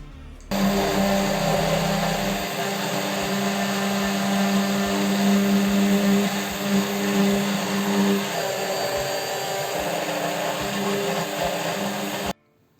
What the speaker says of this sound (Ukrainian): ми беремо блендер і накриваємо яйце ніжкою і починаємо взбивати, поки не вийде майонез